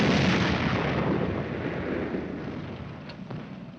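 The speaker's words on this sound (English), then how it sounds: "Platoon, lay a couple of rounds in that Kraut tank for good measure." Tank gunfire aimed at a burning German tank in a war film battle scene, opening on a loud heavy boom that rolls and decays into a long noisy rumble, with faint later cracks.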